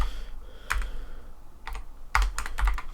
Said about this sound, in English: I believe you have to type it out the way it is.